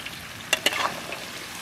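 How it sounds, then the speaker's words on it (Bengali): Goat mutton curry sizzles and fries in a pan while a spoon stirs it, with a steady hiss throughout and a couple of sharp scraping knocks as the meat is turned, close and unaccompanied by talk. "চমৎকার করে কষাও"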